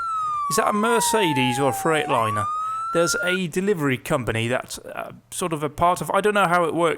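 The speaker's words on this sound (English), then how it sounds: "That's the ambulance." An ambulance siren in the video game Emergency 4 wails in the background, sliding in pitch, while someone talks continuously over it.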